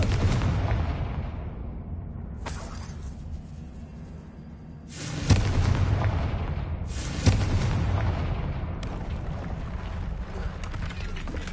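Confringo fire spell blasts in Hogwarts Legacy, a few sharp booming explosions with long rumbling tails over a continuous low game ambience.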